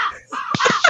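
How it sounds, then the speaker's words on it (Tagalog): A crow gives a few short, harsh caws in quick succession, fairly close and clear, within under a second with no talking. "Nagtawag na lang uwak."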